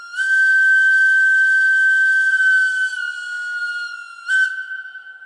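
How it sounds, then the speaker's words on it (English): A model locomotive horn sounds a long steady high-pitched tone, dips slightly, then gives a short second blast, clear and alone. "the horn seems to work"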